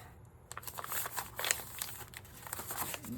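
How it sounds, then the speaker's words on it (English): Coffee-dyed papers crinkle and rustle as they are folded in half, a close, quiet run of crisp crackles and soft swishes in uneven bursts. "So I'm gonna go ahead and fold these in half."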